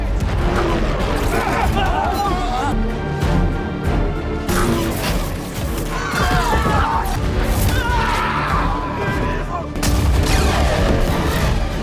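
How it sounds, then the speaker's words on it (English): Cannon fire in a battle against an empire, heard as dense, rolling booms and crashes that pile into a continuous barrage, mixed with a voice talking over it. "faced the cold reality of cannon fire"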